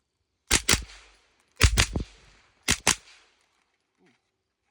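Three pairs of suppressed B&T TP9 pistol shots with subsonic rounds, each pair a quick double crack with short tails, spaced about a second apart at close range, with a faint sound after.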